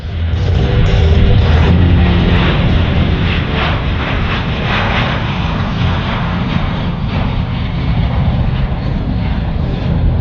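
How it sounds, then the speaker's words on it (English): A Royal Canadian Air Force CC-177 Globemaster III, a Boeing C-17 transport jet, roars steadily during a demonstration at the Abbotsford International Airshow, a loud, continuous broadband rumble with wind buffeting. "please welcome back to center stage from Royal Canadian Air Force in our CC-177 Globemaster III"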